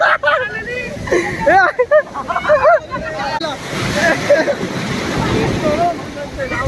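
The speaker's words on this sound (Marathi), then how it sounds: "अरे जाम मोठी लाट आहे" Big sea waves break and wash in at Kashid beach, a rushing surf that swells louder in the latter half, mixed with excited voices and shouting of people playing nearby.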